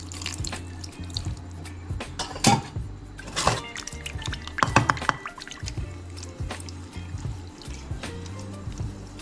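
Water runs steadily from a kitchen tap during preparation of a Konkan fish curry, with splashes and clatter as it fills and washes, close and moderately loud with no talking.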